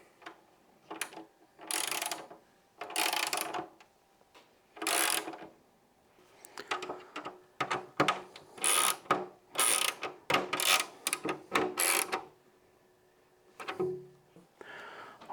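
Ratchet wrench tightening the mounting bolts of a color-matched HEX fairing on a Harley Dyna or Softail, close and crisp: repeated bursts of rapid clicking separated by short pauses.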